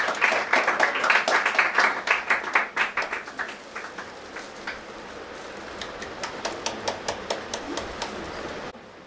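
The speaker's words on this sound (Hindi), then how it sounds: "ताली बजाते रहे।" An audience claps at a church grand opening in Indore, rhythmic clapping that starts strong and close, then thins into fainter, evenly spaced claps before stopping.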